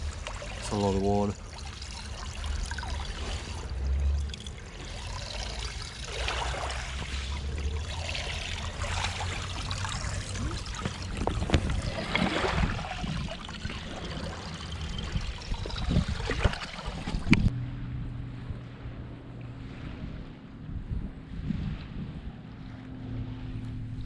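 Water trickles and sloshes aboard a small sailboat at anchor, a steady close wash mixed with wind and boat creaks, with a person talking over it before the sound drops to a quieter low hum.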